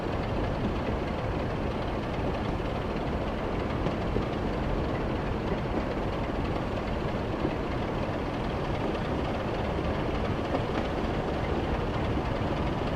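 A Moorlander train hauled by locomotive 73156 on the North Yorkshire Moors Railway gives a dense, steady rumble with faint rail clatter, continuous and fairly loud throughout, with no talking.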